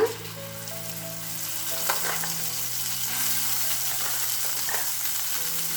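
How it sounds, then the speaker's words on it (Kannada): Masala paste fries in a spoonful of oil in a pan over medium flame for a capsicum and curd dish, a steady close sizzle with stirring scrapes and a low hum, no talking. "ಇದು 1 ನಿಮಿಷ ನಾವು ಈ ಥರ ಎಣ್ಣೆಯಲ್ಲಿ ಹುರ್ಕೊಳ್ಳೋಣ"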